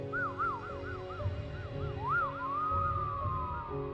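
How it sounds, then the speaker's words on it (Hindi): A faint, eerie whistle wavers up and down in quick undulating swoops, then stretches into a long gliding tone, set over a low background hum in a horror story setting. "ये सीटी की आवाज़ हर रोज़ आती है"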